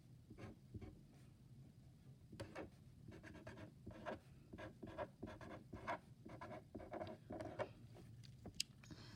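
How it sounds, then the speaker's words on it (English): A marker scratching out a word on a classroom anchor chart, with short scratchy strokes and small taps in an uneven rhythm, close and fairly quiet with no talking. "So we're going to start with writing the word homophones."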